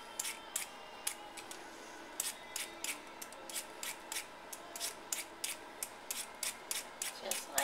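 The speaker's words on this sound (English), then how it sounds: "I have my vegetable peeler, and you want to put it on your potato and pull away from you" A vegetable peeler scrapes along a potato in quick, evenly spaced strokes, each a short faint rasp up close, repeating steadily over a quiet background.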